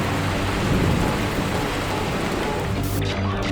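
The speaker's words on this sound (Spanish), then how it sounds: "Y una lluvia torrencial cae sobre la región." Heavy rain pours down in a dense, loud, constant roar, with a deep rumble beneath it.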